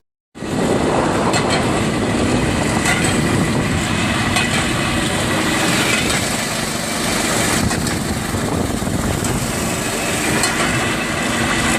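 A rail vehicle rumbles along a narrow-gauge track with crooked rails near Tver, with a steady engine drone and rattling clatter of wheels, loud and close throughout.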